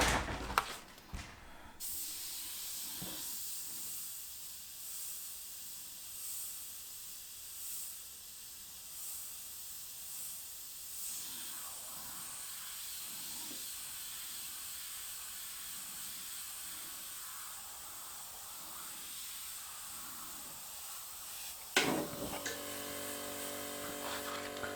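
An airbrush loaded with paint mixed from acrylic paste gives a steady, even hiss of air and spray that runs almost unbroken, with a sharp burst near the end.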